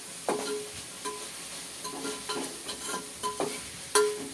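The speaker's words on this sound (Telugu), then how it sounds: "ప్రాపర్గా ఇప్పుడు మిక్సింగ్ చేస్తున్నాను" Chicken being mixed by hand with red food colour in a marinade for Hyderabadi red chicken, giving soft wet squelches and scrapes in an irregular rhythm, close and moderately quiet.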